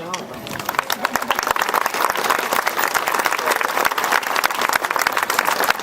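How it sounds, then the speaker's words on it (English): An audience at a high school graduation ceremony in 2014 claps steadily and densely, a loud, sustained wave of applause from a large crowd, with some voices mixed in. "you should also stand and applaud for the woman who helped me so much with them, Caitlin Nickerson."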